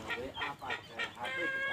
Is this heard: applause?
no